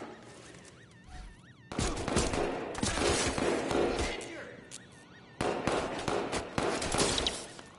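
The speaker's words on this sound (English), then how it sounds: "tell me those weren't gunshots" Rapid bursts of gunfire in the video game Watch Dogs 2, loud and dense, come in two long volleys separated by a short lull, with faint tonal game sounds beneath.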